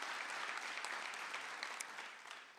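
Steady applause from an audience at a university convocation ceremony in a hall at Bishop's University, a dense continuous clatter of clapping hands that holds evenly and tapers slightly at the end.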